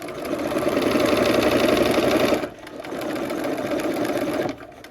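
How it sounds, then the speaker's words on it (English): Sewing machine with an open-toed foot stitching along a quilt line, a fast rhythmic whirring burst lasting over two seconds, then a brief drop and a second quieter run of stitching. "let's go to the sewing machine and sew that"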